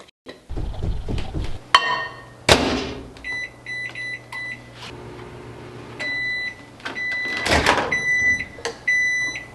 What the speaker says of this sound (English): I have to heat it up in the microwave